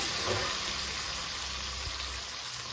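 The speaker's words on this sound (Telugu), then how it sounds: "ఇప్పుడు ఆనియన్స్ అండి పచ్చిమిర్చి అవి కలుగుతాను అవి కొంచెం ఫ్రై చేసుకుందాం" Onions and green chillies frying in a pan for fenugreek-leaf dal, a steady close hiss and sizzle that holds evenly throughout with no talk.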